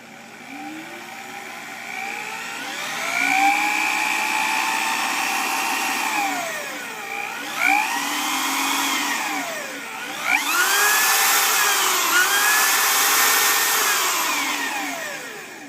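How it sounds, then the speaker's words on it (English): A washing machine motor whirs steadily as a drill spins it, its pitch rising and falling in sweeping waves with brief dips as the speed changes. "I got the drill hooked up to the washing machine motor with it all wired up."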